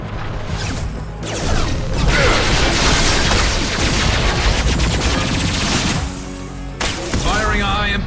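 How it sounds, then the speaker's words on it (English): Rapid gunfire from Mass Effect 2 fills the firefight, dense bursts of automatic shots with sharp impacts and clatter over steady combat noise, with voices talking in between. "Firing a high-impact shot."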